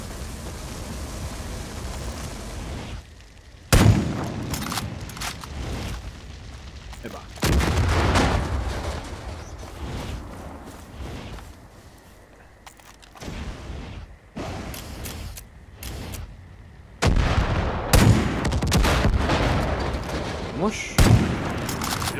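Gunfire in the open-world shooter Far Cry 5, with sharp individual shots and bursts at irregular intervals over a softer background, some loud and close, some fainter.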